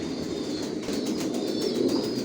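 Big maxi racer pigeons coo softly and repeatedly in a loft, low murmuring calls over a quiet steady background with no one speaking.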